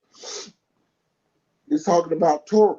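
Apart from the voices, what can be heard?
sneeze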